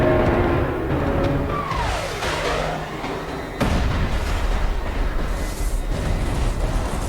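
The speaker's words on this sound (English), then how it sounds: "The asteroid hits with an explosive force of 100 trillion metric tons" A dramatized asteroid impact explosion: a low rumble with a falling whoosh gives way to a sudden loud blast, then a sustained, heavy roaring rumble. It is dense and cinematic, with no voices.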